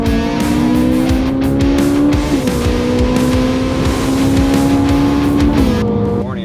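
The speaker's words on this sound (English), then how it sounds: "guess I'm driving the Ferrari." A 2012 Ferrari 458 is driven with a loud, continuous engine drone heard from inside, pitch climbing steadily through the gears with a couple of shift drops.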